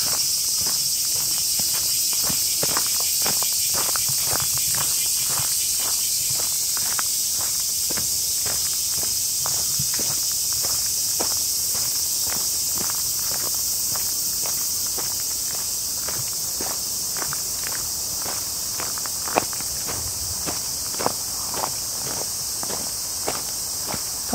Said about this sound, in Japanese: 歩いております。